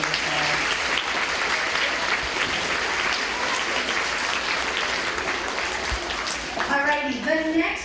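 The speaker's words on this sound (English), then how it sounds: "If you could please give them a round of applause." A school audience claps steadily for fifth graders in a gym, a dense sustained round of applause, with a voice starting to speak near the end.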